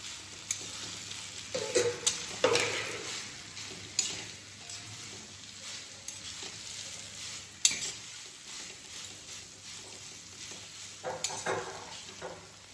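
Noodles sizzling in a hot pan as they are stir-fried, a steady close crackle broken by scraping and tapping of a spatula, with no one talking.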